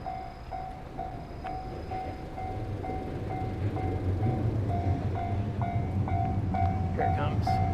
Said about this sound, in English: some kind of train's coming now